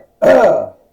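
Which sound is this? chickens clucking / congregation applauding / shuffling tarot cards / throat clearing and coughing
throat clearing and coughing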